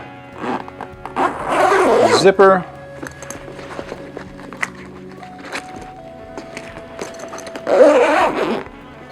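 Two loud zipper pulls on a guitar case, one early and one near the end, separated by quieter rustling and handling noises.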